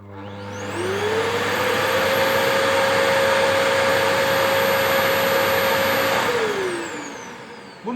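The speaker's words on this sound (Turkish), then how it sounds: "Sonra makineyi içindeki kalan pislikleri attırmak için böyle boş boş çalıştırın." An Electrolux SilentPerformer Cyclonic vacuum cleaner runs empty, its motor winding up to a loud, steady whine that holds for several seconds before spinning down, close and alone.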